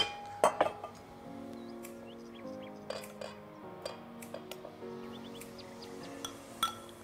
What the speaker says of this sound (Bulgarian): Започвам да разбърквам всички продукти